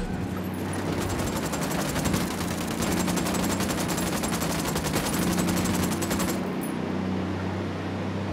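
Sustained automatic gunfire in the video game Ghost Recon Wildlands, rapid continuous bursts with a steady roar underneath and a brief pause near the end.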